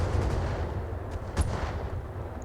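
Mech weapons fire in BattleTech with the RogueTech mod, a low rumbling barrage of muffled gunshots with one sharper crack, fairly quiet and with no talk.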